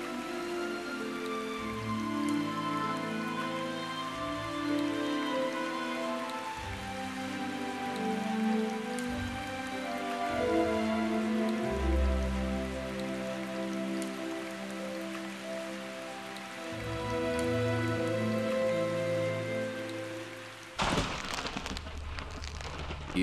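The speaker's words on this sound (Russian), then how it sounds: "Через три дня пошел дождь, и наполнились водой колодцы" Steady rain falls across the whole stretch, a dense even patter of drops on a surface, with low tonal music running underneath and a brief louder burst near the end.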